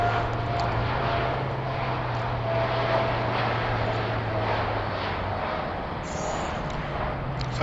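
An Air Canada airliner on flight 856 at Heathrow produces a steady, broad jet roar with a sustained low engine hum, loud and continuous without a clear rise or fade.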